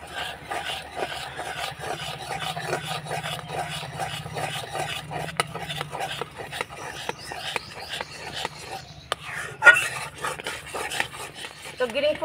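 Green food colour being stirred into a raw mango mixture in a pan, with repeated scraping and rubbing strokes of a spoon against the metal, uneven in rhythm and close, plus occasional sharper clinks.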